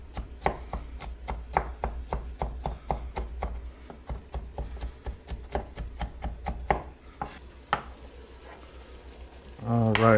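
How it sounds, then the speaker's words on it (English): Steady knife chopping on a cutting board as peeled garlic is finely minced for lasagna sauce, crisp rhythmic strikes about three per second, close and clear, then a brief stir and sizzle at the end. "now that our garlic is all nice and peeled, we are going to mince it up really finely"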